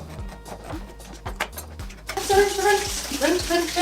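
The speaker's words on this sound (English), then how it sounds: "you're gonna need a can of chickpeas, and we're just gonna rinse these out" Tap water runs over canned chickpeas being rinsed in a strainer at a kitchen sink, starting after a few soft knocks and continuing as a close, steady splashing gush.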